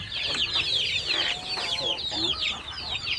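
Native chickens on a Filipino backyard farm, clucking and chattering steadily at close range, with a busy flock of overlapping calls.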